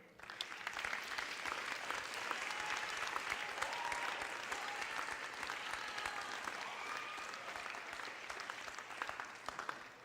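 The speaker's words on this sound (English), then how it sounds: "let's hear another round of applause for our students" A crowd applauds steadily for about ten seconds at an eighth grade recognition ceremony, dense clapping from many hands that holds strong and tapers slightly toward the end.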